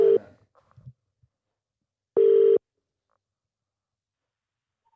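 A phone ringtone sounds in short electronic bursts on a call, one burst at the start and another loud, steady tone about two seconds in, with near silence between them.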